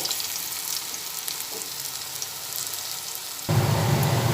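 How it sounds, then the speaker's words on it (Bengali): Steady crackling sizzle of potato pakoras deep frying in oil, growing suddenly louder and fuller near the end, with no voices. "পকোড়াগুলো দুটো দিকে ভাজা হয়ে গেছে"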